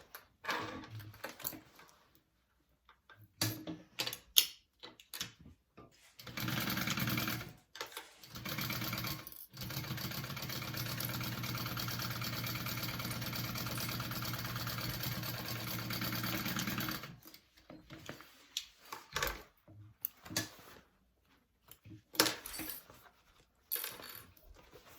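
A sewing machine top-stitches a bag, starting with short bursts of running, then stitching steadily for about ten seconds before trailing off into light handling taps and short stitch bursts.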